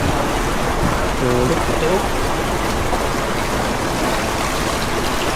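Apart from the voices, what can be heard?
strong river current flowing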